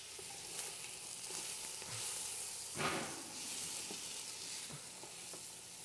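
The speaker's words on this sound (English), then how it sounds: "Hear that beautiful sizzle." Food sizzles and crackles in a hot pan with avocado oil over medium heat, a steady hiss with a brief louder burst midway, fairly quiet and close.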